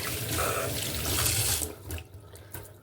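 Running tap water splashes loudly into a kitchen sink during washing up, a steady close rush for over a second before it thins out to scattered splashes and drips.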